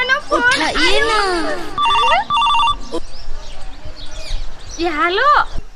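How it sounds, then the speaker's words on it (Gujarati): A phone ringtone chiming in short repeated electronic bursts during a call in a Gujarati comedy sketch, set between sliding, whistling voice-like sounds and brief speech. "હવે સુમલીને ફોન કરું"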